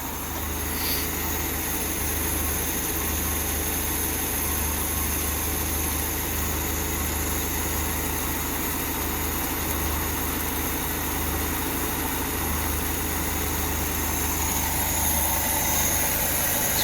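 The engine of a 1977 Toyota Chinook, fitted with a Weber 32/36 carburetor, idles steadily and fairly quietly while it warms up, a smooth, continuous low rumble close by with no break for the full duration.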